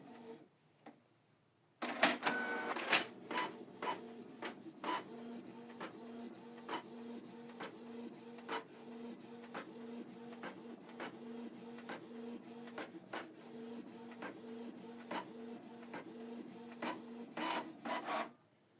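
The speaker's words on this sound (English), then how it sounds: "So it's going to print the second part of the document." A Canon TS3351 inkjet printer prints the second side of a double-sided document, running with a steady mechanical whir broken by rapid repeated clicks and ticks of the print head and paper feed, close and fairly quiet.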